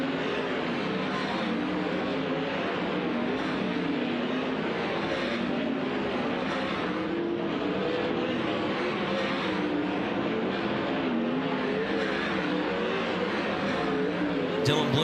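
Dirt track race cars running a hot lap session at Kings Speedway, a continuous roar of engines blending from a distance across the track, with a commentator talking over it throughout.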